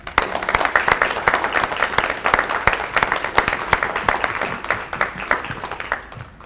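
A school assembly audience applauds its terrific kids with sustained, dense clapping for about six seconds. The applause is loud and steady and tapers off at the very end.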